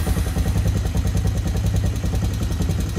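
A Honda Recon 250 ATV engine runs at a steady idle after carburetor cleaning, its rhythmic chugging putter close and even throughout.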